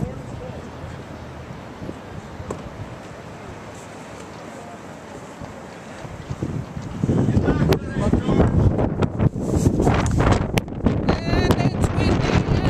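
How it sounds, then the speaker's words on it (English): Wind buffets the microphone in a low rumbling roar at a seaside boardwalk, growing heavier and gustier in the second half with no talk. "it's windy and you're not going to hear a word I'm saying"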